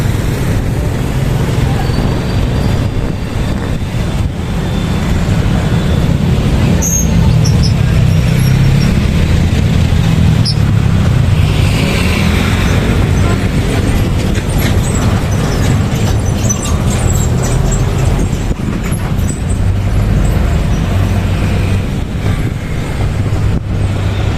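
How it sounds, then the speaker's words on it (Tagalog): Continuous road traffic of cars and buses crossing the Guiguinto bridge, a loud, dense rumble of passing vehicles with no breaks, heard close to the roadside. "So medyo marami pong sasakyan ang dumadaan sa mga oras na ito."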